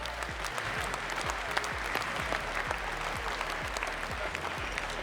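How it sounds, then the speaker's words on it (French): A crowd applauds steadily and loudly at a cattle show, dense clapping filling the space throughout, with thumping low sounds pulsing underneath. "vous pouvez l'applaudir le plus fort que possible"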